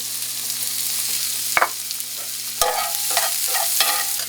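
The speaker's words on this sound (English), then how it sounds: "With those nice drippings, pan drippings, I'm adding carrots" Carrots sizzle and hiss close up in a very hot skillet with olive oil and chicken pan drippings, a steady fry broken by a few sharp utensil scrapes and clinks.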